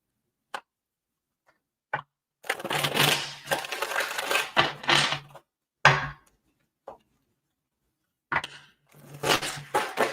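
Bursts of crisp, papery riffling and slapping as tarot cards are shuffled come in several rapid runs with short pauses between them, close to the microphone.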